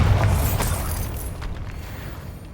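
Bombarda spell detonating in Hogwarts Legacy, a single loud, close magical explosion with a heavy boom that rolls off into a rumbling, crackling decay.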